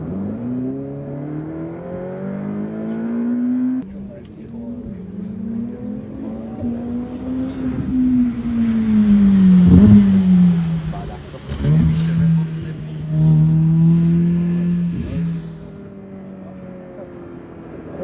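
A car at full throttle on a race track, its engine note rising and falling through gear changes across a long, loud, close run with a brief mechanical knock midway.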